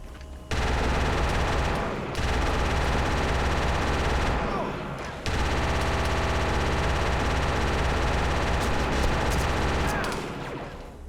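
Suppressing automatic gunfire in a video game, loud sustained bursts of rapid machine-gun fire running almost continuously with a couple of brief gaps, close and dominant throughout.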